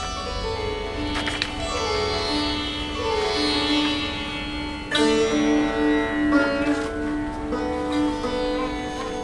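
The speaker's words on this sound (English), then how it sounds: "So this is sitar. It sounds a little like this." A sitar plays solo, with bright, buzzing plucked notes and sustained sympathetic-string drones. A melodic phrase slides and bends over several seconds, and a sharper pluck comes midway. Close and clear, with no talking.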